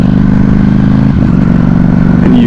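A Ducati Panigale V4S on a night ride gives a loud, close, steady engine drone that dips briefly midway and then carries on at a constant pitch.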